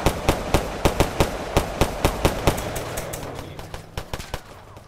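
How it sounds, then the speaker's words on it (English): Rapid bursts of gunfire in the Roblox game Tha Bronx 2, a steady run of sharp cracks in quick succession that thins out, then a final closer cluster of shots near the end. "Oh, somebody just shot the guy."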